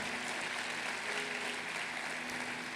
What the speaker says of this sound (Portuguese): Nós não pode aplaudir ele bem forte.